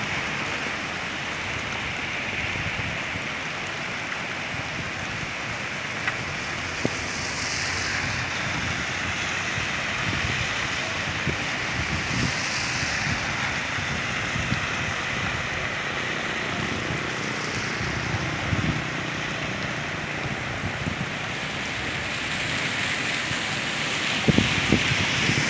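Steady rain falling outdoors in Siloé, a broad continuous hiss with scattered drop taps, moderately loud and unbroken throughout, with no voices.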